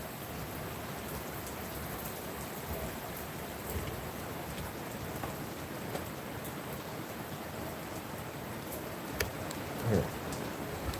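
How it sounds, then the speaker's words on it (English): Steady rain falling outdoors, a dense even hiss with occasional louder drops, heard alone throughout with no talk. "it's raining."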